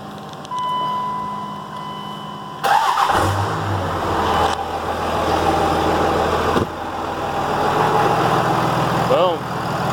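A Dodge Ram 2500/3500 Cummins diesel cranks and catches after a thin fuel-pump whine, then settles into a loud, close, rough idle with a couple of throttle blips; no speech is heard.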